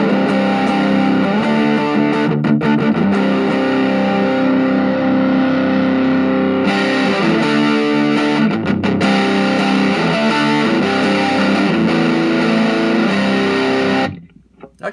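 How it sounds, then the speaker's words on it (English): An electric guitar played through a Boss MD-2 Mega Distortion pedal with the distortion knob set to zero still sounds heavily distorted. Loud sustained chords ring with a couple of brief breaks, then cut off abruptly near the end. "even on 0, this is a very distorted tone"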